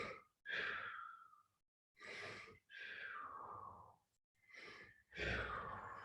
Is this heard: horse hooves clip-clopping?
no